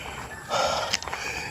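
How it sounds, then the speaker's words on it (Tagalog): Heavy panting from a person catching their breath after a hike in a quiet spot by a dried-up creek, breathy gasps and snorts rising mid-clip, close and moderately loud over a hushed outdoor background. "Hinihingal ako"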